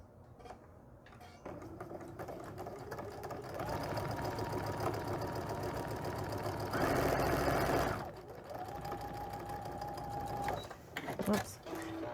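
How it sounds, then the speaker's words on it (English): A sewing machine stitches a quilted table runner in a steady mechanical whir that runs for several seconds, pausing and restarting partway through, close and moderately loud. "And stitch on the line."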